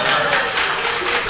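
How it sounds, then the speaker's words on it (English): Applause from an audience, a dense, steady wash of clapping mixed with faint voices. "you get an applause for yours"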